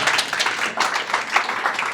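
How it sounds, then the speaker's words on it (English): An audience at a public awareness meeting in York, Pennsylvania applauds, a steady, dense crackle of many hands clapping that fills the room at an even level without pause. "And you're allowed to clap."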